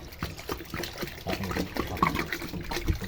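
Water trickles and splashes steadily while fermented bamboo shoots are washed by hand, close and fairly loud with small clattering handling noises throughout.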